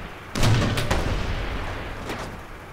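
Cannon on a Guardian artillery light vehicle fires in the Mercenaries 2 video game near the Port of Caracas outpost: a sudden booming blast, then several sharp follow-up cracks over a rumbling tail.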